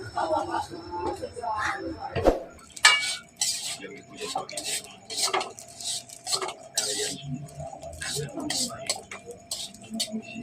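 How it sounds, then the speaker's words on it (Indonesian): Fried rice being cooked and stirred in a pan, with repeated metallic scraping and clinking of a utensil against the pan in irregular bursts, close by, with brief voices in between. "Bikin nasi goreng dulu."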